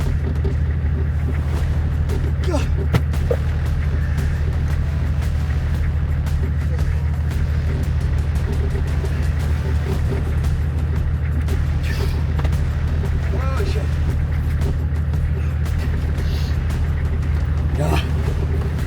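A Toyota Land Cruiser engine labours at a steady, deep, continuous drone while stuck in mud in remote Spain, loud and close throughout.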